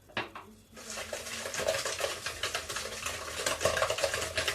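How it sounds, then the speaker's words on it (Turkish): Sugar being stirred in a bowl while making carob cake, rapid scraping and clinking of a utensil against the bowl in an uneven rhythm after a brief knock at the start, close and clear without speech. "Hemen şöyle karıştırıyorum."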